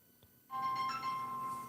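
A phone rings for an incoming call, a steady electronic tone that starts abruptly after a brief quiet moment and holds at moderate volume in a quiet room.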